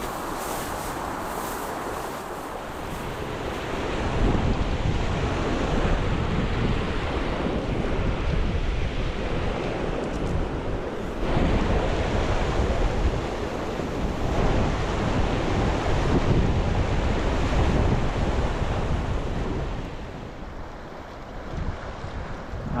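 Continuous rushing water from a waterfall on a trout stream in Sun Valley, a loud, steady broadband roar that swells slightly in the middle and eases near the end, close by and with no voices.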